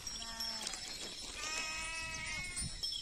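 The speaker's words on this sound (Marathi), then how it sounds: "सकाळी आम्ही मेंढ्या सोडलेल्या उन्हाच्या चरण्यासाठी" Sheep bleat repeatedly while out grazing in the morning, several calls overlapping at moderate distance over a soft outdoor background.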